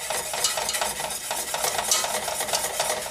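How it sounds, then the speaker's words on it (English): Egg mixture whisked into milk in a pot off the heat, a fast, even run of rhythmic whisk strokes rattling against the pot, close and continuous with no voices. "now whisk this back into the rest of the milk in the pot"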